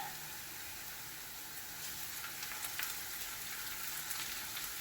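Garlic and onion frying in a pan for pork caldereta give a steady, faint sizzle with occasional soft crackles and pops, with no talk.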